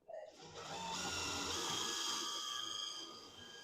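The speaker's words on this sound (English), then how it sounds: "First screw, pre-drilling, not all the way," Power drill pre-drilling a screw hole in a greenhouse roof, a single steady whirring burst of a few seconds that spins up, holds and winds down, fairly quiet and close.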